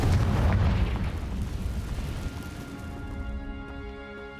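Fiery Confringo spell blast in the video game Hogwarts Legacy, a single heavy booming explosion that hits hard at once and fades into a rumbling tail with faint ringing tones.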